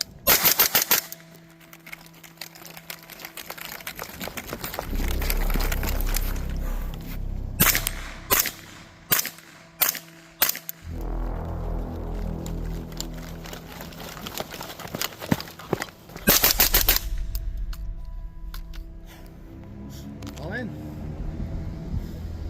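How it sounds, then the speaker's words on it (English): 300 Blackout rifle fired on a subsonic course of fire: several spaced strings of sharp, loud shots with quieter gaps between them, and voices talking at points. "Shooter on a Sonic course of fire. Stand by. Fight."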